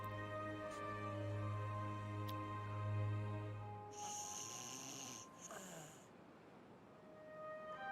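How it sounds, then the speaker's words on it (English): A beaver in the video game Timberborn snores in repeated very high-pitched, squeaky little breaths, quiet and close, over a faint steady game background with a brief brighter chime midway. "Very, very high-pitched little snore"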